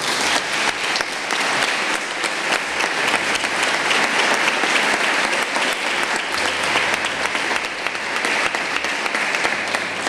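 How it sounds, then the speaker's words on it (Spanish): A large audience at an award ceremony in honour of María Victoria del Valle breaks into strong, sustained applause, dense and steady clapping that holds at a loud level throughout with no voices over it. "pido un fuerte aplauso para ella"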